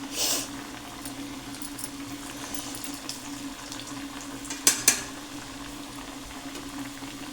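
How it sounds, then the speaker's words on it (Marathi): Coriander vadi pieces deep-fry in hot oil with a continuous bubbling sizzle, a soft clatter near the start and two sharp clinks midway, close and fairly quiet, no talking. "डीप फ्राय करून घेणार आहे आपण"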